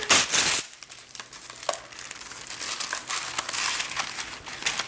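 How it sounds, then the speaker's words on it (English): Parchment paper crinkling as it is laid over flattened butter cookie dough, starting with a loud close rustle and continuing as softer intermittent crackles and crumples. "Cover it with another piece of parchment paper."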